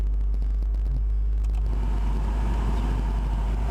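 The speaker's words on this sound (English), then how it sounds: "start your engine" A Ford Focus engine idling with the heater fan running on high, a steady low rumble and broadband whoosh, close and constant throughout.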